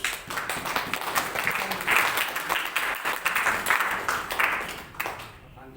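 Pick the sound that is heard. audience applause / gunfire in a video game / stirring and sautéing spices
audience applause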